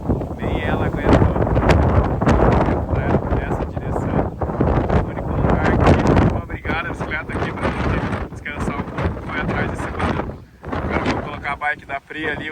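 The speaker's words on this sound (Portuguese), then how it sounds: "isso é vento patagônico" Strong Patagonian wind roars loudly across the microphone, a continuous broadband buffeting on an open road where it bent a stop sign, with people talking over it throughout.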